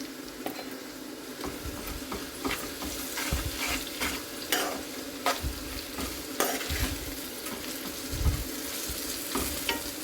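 Bitter gourd pieces fry with ginger garlic paste and oil in a pan, a continuous close sizzle broken by repeated scraping stirs and occasional utensil knocks, with no talking.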